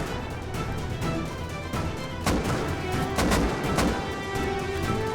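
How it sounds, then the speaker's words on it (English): Fire rocket launched during a raid in the video game Rust, one of several sharp blasts and explosions cracking over a busy, noisy battle din. "that's a fire rocket"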